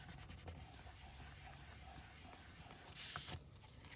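A glued paper gate fold card gets a steady rubbing along its back, a soft, continuous scratchy friction with a brief louder swipe near the end, close up and with no talk.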